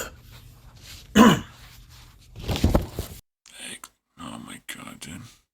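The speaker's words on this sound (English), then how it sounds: "And it starts with coughing" Harsh coughing and throat clearing in a few loud bursts, then several shorter, quieter throaty sounds with brief gaps between them.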